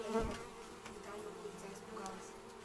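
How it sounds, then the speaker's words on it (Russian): A bee buzzes faintly nearby, a soft, wavering drone over a quiet background. "Чего? Пчела?"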